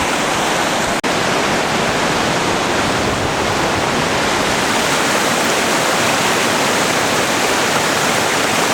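A mountain river on a trek from Vincent Gap to the East Fork trailhead rushes in a steady, loud broadband roar of flowing water, continuous and unbroken, with no voices.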